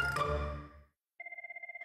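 Telephone ringing in a household, a rapid repeating two-tone electronic trill that starts after a brief loud burst of sound and a moment of silence.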